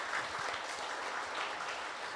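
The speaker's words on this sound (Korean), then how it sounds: "우리 박수 부탁드립니다." A book concert audience in Wonju claps steadily, a soft and somewhat distant wash of many hands that holds even throughout with no talking.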